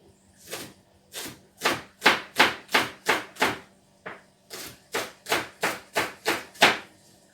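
Green onions chopped with a knife on a board for a veg curry, a steady run of about fifteen crisp, close thuds in two bursts with a brief pause between, no talking.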